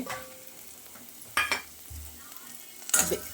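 Ground spices sizzling and being stirred in a hot pan for Sunday-special mutton gravy, a steady low fry broken by a few sharp scraping stirs, close and without talk.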